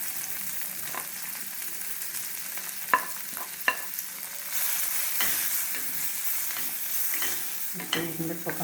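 Sweet corn and carrot stir-fry in a hot pan for white sauce pasta, with a close, steady sizzle and repeated scraping and clattering knocks of a spoon stirring.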